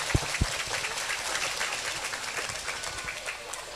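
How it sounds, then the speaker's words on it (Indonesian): Dense, steady applause from an audience at a Madurese comedy show, greeting Saiful Hajah, with a couple of louder thumps near the start and no voices over it. "tepuk tangan untuk Saiful Hajah"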